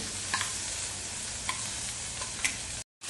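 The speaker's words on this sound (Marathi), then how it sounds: "फोडणीमध्ये तीळ सुद्धा छान तडतडले" Steady sizzling of hot oil with small seeds popping and crackling intermittently, close and continuous, with no voices.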